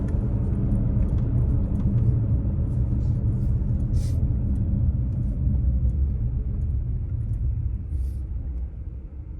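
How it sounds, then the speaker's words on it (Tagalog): Heavy road traffic with many cars passes close by, a continuous low rumble of engines and tires that stays loud and steady before easing slightly near the end, with no talking. "Nako, ang dami na naman yung sasakyan sigurado."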